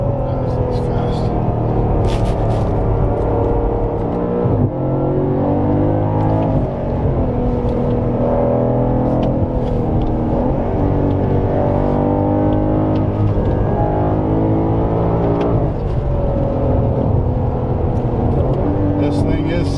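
An Audi sedan accelerates hard on a curvy road, its engine note climbing in repeated rising pulls, loud and close from inside the car, with muffled speech-like sound mixed in.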